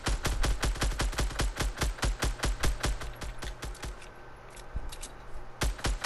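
Shooter game gunfire: a rapid string of sharp, close shots with brief gaps, then a few more spaced shots near the end, with no talking.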